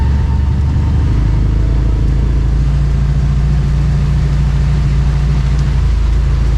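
A CFMOTO UForce 1000 UTV with an aftermarket clutch kit crawls in two-wheel drive over a slick spot at about 8 to 9 mph, its engine a loud, steady, close drone around 3,200 rpm.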